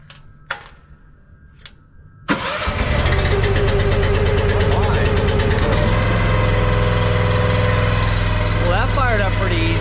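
The engine of a new 500-unit seed tender cranks and catches after a few quiet seconds, then settles into a loud, steady, close-up idle that runs to the end.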